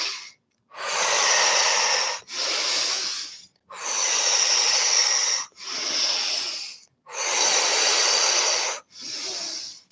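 Slow, deliberate breathwork, in through the nose and out through the mouth, heard as three paired cycles of loud, airy breaths close to the microphone, each breath about a second long with brief silences between.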